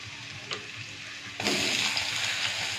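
Garlic goes into hot cumin seeds in a pan, and a quiet kitchen background gives way to a sudden, loud sizzle that keeps crackling to the end.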